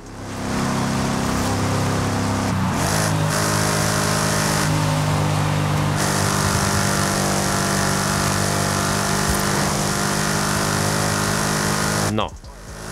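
A Ford Mustang Dark Horse engine in Forza Horizon 5 roars loudly and steadily through the gears, with a couple of brief shifts before cutting off near the end.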